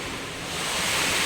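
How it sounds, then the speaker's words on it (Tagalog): Strong wind roars as a dense, steady rush of broadband noise, buffeting close to the microphone and swelling slightly louder toward the end, with no voices heard. "Lakas naman ito ng hangin"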